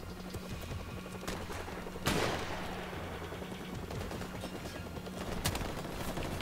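Gunfire in the first-person shooter Call of Duty 4 Remastered: repeated sharp shots and bursts over a busy game soundscape, with one louder crack standing out near the middle.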